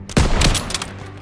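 Gunfire in the World War II shooter Call of Duty WW2: a loud, close burst of shots with sharp attacks in quick succession, ringing out over a steady battlefield rumble.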